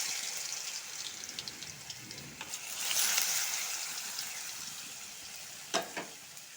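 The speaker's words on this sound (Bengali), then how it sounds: "তেলটা একটু ভালো করে গরম হইতে লাগবে তবে পনিরটা ভালো করে ভাজা হবে সয়া পনিরটা ভেবে দেবো" Soya paneer frying in hot oil, a faint continuous sizzle with a swell of hissing partway through and a couple of sharper spits near the end, no talking.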